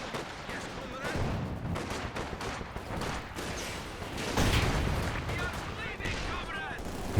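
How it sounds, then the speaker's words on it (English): Incendiary artillery barrages and scattered gunfire in the strategy game Company of Heroes 2, with booming impacts and crackling shots running continuously under a commentator's voice. "we've got some incendiary artillery coming in"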